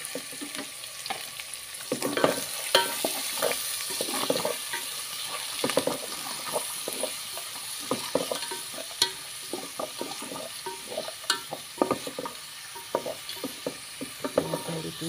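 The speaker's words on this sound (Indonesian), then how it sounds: "Tumiskan dia." Sliced onion, ginger and garlic sizzle and fry in a pan for a Malaysian village chicken curry, with a steady crackling hiss and frequent stirring scrapes throughout.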